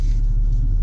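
Volkswagen Golf race car idling on a frozen ice track in northern Sweden, a steady deep engine rumble close by with no change in pitch throughout the brief moment.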